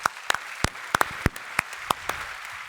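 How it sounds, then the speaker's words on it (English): Sparse, scattered claps from a small audience welcoming David Sacks, the czar of crypto and AI, at a discussion event on winning the AI race; about a dozen distinct sharp hand claps spread unevenly, fairly near, with no talking. "a huge round of applause for David Sacks"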